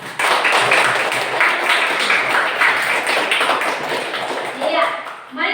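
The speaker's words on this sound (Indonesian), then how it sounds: "Ya, tepuk tangan dulu" A classroom of students claps together in a practice lesson, a dense, steady patter of many hands lasting several seconds, fairly loud and sustained, fading slightly near the end.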